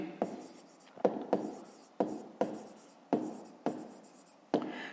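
Pen strokes scratch across paper as a fifth-grade math word problem is written out, several distinct bursts of writing separated by short pauses, close and clear with no talking.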